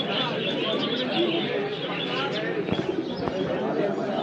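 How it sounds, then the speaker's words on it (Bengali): Pigeons cooing at a busy pigeon market in Bangladesh, soft repeated coos and chirps nearby under constant crowd chatter and someone talking. "মার্শাল্লাহ এই যে একটা কবুতর,"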